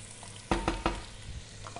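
Ground chili and garlic hit a hot pan with a few sharp stirring scrapes, followed by a quiet, steady sizzle of frying.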